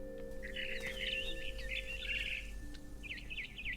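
Bright, rapid bird chirps in What Remains of Edith Finch, a busy warbling phrase followed by a few quick tweets, set over a low constant ambient hum.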